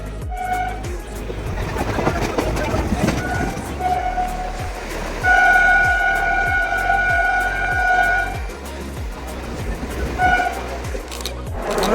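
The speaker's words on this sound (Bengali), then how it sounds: "ট্রেন ছাড়বে এবার" A train rumbling along the tracks with steady rhythmic clatter of wheels over rail joints, joined by several long horn blasts.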